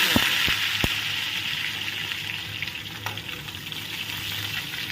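Pointed gourd (potol) and potato pieces fry in hot oil in a pan, giving a steady close sizzle with a few sharp clinks and spatters near the start and no talking.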